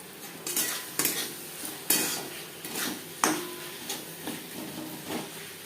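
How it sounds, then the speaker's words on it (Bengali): Tomatoes cook with spices and a splash of water in a pan, a spoon scraping and clanking against the metal in repeated strokes over a soft background sizzle. "টমেটোর কাঁচা গন্ধ যাওয়া পর্যন্ত নাড়াচাড়া করে নেব।"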